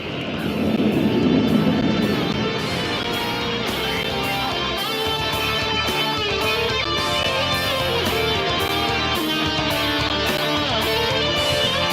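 Surya Kiran aerobatic jets at Aero India in Bengaluru make a loud, sustained jet roar overhead that swells early on and then holds steady, with a rhythmic flutter.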